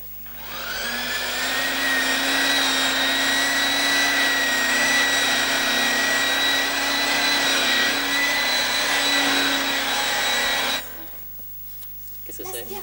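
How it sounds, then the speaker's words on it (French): A vacuum cleaner plays as a sound effect in a guessing game, a loud, steady whine and roar that holds for about ten seconds, then cuts off abruptly, leaving faint room noise. "C'est l'aspirateur, effectivement."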